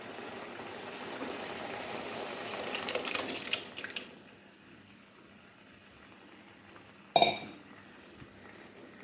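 Cooked dal is poured into a ridge gourd curry in a Kerala kitchen, making a wet, gushing splash for about four seconds, followed by a quiet pause and a brief sharp clatter.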